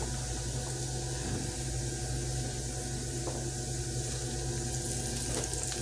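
Onion and garlic sauté in a pan with a steady, close sizzle and crackle of hot oil, a continuous frying hiss with a few faint stirring clicks.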